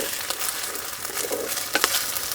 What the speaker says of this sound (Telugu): అల్లం వెల్లుల్లి పేస్ట్ వేసిన తర్వాత పచ్చివాసన పోయే వరకు బాగా కలుపుకుందాం